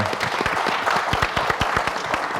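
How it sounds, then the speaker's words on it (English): A round of applause at a business development event: a close audience clapping briskly, with many distinct, sharp hand claps in a steady, lively patter. "Round of applause for that, man"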